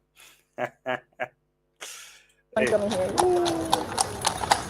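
Horse hooves clopping steadily on a hard surface, starting partway through after a short stretch of talk and continuing close and fairly loud with a noisy outdoor background.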